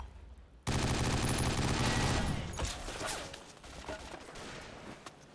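Rapid, loud bursts of sniper rifle gunfire from the video game 50 Cent: Blood on the Sand, dense shots at close range that begin abruptly and then thin into scattered, echoing fire.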